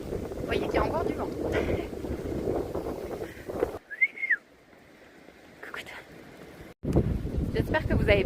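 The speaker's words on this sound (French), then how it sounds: "Vous voyez qu'il y a encore du vent." Outdoors, wind gusts buffet the microphone with rough low rumbling, fading to a quieter lull before returning, while someone talks over it intermittently and a brief whistle-like tone sounds during the pause.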